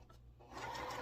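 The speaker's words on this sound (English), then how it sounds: "And then we're going to sew on either side of that line." A sewing machine stitches quilt block triangles in a short burst, its needle starting up with a quick, steady whir after a brief quiet moment.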